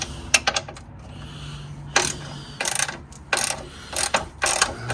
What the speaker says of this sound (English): so probably use a ratchet and extension for that one